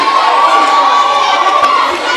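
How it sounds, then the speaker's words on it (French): A school competition audience cheers and claps throughout, a dense, loud wash of crowd noise with children shouting, continuous for about two seconds. "applaudissez maintenant"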